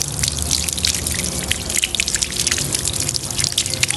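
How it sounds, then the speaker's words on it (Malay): Tap water runs steadily over a burned area of skin during a first-aid demonstration, a continuous close splashing trickle and gush with scattered drips, no voices. "kita alirkan sahaja air pada kawasan melecur ini lebih kurang 10 hingga 15 minit"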